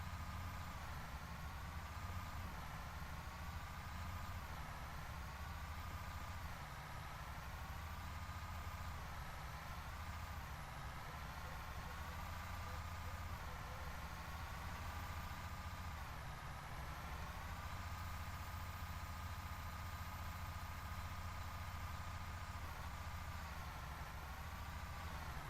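A truck engine idles loudly in a farming video game, a constant low rumble with a droning whine that wavers slightly in pitch, running steadily throughout without talk.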